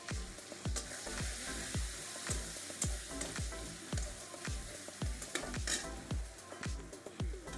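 Spices, chili paste, prawns and pumpkin fry steadily in a pan for a village-style Bengali curry, with a constant sizzle and rhythmic scrapes of a stirring spoon, close and moderately loud, no talking.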